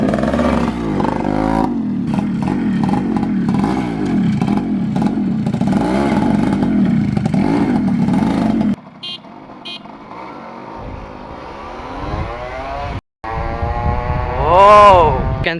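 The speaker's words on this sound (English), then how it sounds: "This is a top end chamber exhaust." A ported Suzuki Shaolin motorcycle fitted with a top end chamber exhaust revs hard in repeated rising and falling bursts, loud and close, then drops to a rougher idle before one more sharp rev.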